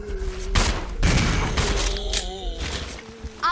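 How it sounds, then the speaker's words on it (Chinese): Gunfire from Resident Evil 0 HD comes as several loud, sharp shots in quick succession, with the game's background sounds and a player talking over the shooting. "不要跟我乱开枪"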